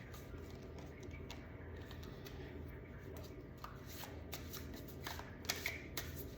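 Large oracle cards are shuffled during an Aries collective reading, a steady close riffling and sliding rustle lasting throughout with a few sharper slaps near the end, with faint talk underneath.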